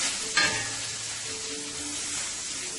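String beans sizzling in a pan on the stove, a steady close frying hiss with a brief stirring scrape near the start.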